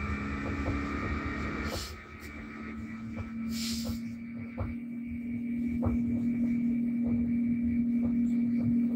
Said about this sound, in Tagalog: Naririnig nyo yung aircon.